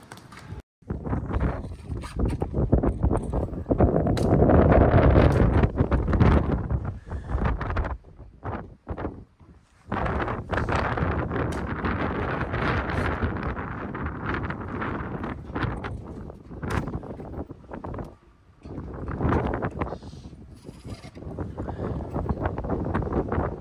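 Strong wind gusts across a new roof fitted with membrane and a ventilation gap, roaring close against the microphone in heavy, uneven waves that surge and dip for the whole stretch.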